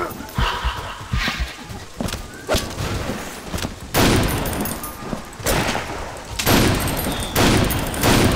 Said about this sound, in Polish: A, dobra, fajerwerki, pamiętam.